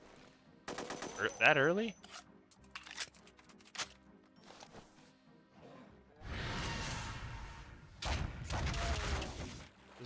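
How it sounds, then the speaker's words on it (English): Gunfire from the one-shot demon rifle in the video game Resurrection of Dawn: bursts of sharp, loud shots with whooshing, separated by quieter gaps, alongside brief speech. "This is the one-shot demon rifle thing."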